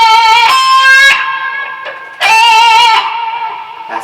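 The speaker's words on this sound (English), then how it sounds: "That's the wah-wah giving me that cool tone." Electric guitar played through a wah-wah pedal on a pedalboard, two loud sustained notes with a sweeping, vocal-like tone, each ringing about a second before cutting off, with no talking.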